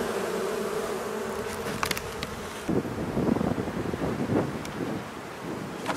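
Honeybees fanning at the entrance of a hive just after an inspection: a steady droning buzz close to the microphone with a few louder wingbeats passing by, under light wind rumble.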